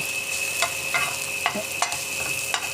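Fried rice for breakfast sizzles in a pan while a utensil scrapes and stirs it at a steady, unhurried pace, each stroke a clear scrape over a continuous frying hiss, close and moderately loud, with no talking.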